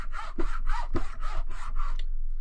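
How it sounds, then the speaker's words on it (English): A hand saw cutting through a plastic model railroad part, short rasping back-and-forth strokes in a steady, quick rhythm, close and crisp, ending after about two seconds. "your saw sometimes can want to skip and jump out of the groove when you're first making it"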